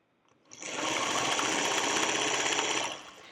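A sewing machine chain-stitches quilt pieces in one steady, rapid whirring run of about two and a half seconds, starting and stopping cleanly, close up with no talking.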